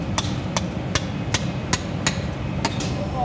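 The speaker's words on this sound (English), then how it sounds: "I'm gonna try my hand as a master slate splitter." Hammer striking slate in a quarry to split it, eight sharp ringing taps at a steady rhythm about every third of a second, close and distinct over low background rumble, no talking.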